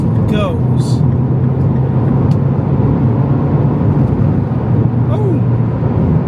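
A Mini Cooper S pulls uphill in third gear, a loud, steady engine drone with road rumble running throughout, while someone talks over it.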